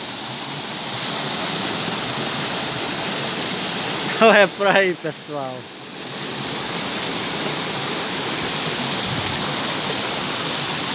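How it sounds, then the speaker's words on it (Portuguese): Water rushes steadily at a waterfall, a loud broadband roar that fills the whole clip, with a short spoken phrase briefly over it midway. "Olha o barulho da água."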